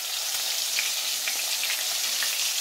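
Fish bellies fry in hot grease, a dense, even sizzling hiss with faint bubbling pops, close and continuous for a few seconds.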